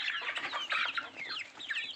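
Several Gavran country hens clucking close by, a dense stretch of overlapping clucks and short calls with no talk.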